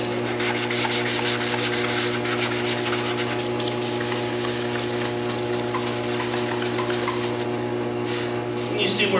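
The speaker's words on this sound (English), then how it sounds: "as you sand it, you'll see the top part of that headlight is deteriorated" Sandpaper rubbed by hand across a deteriorated car headlight lens, giving a steady, continuous scratchy rasp that stays close and even throughout with a faint background hum.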